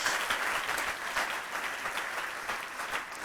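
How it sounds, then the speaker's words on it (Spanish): A church congregation at a revival service claps loudly for Christ Jesus, a sustained, full round of applause from the crowd. "Dele un fuerte aplauso a Cristo Jesús."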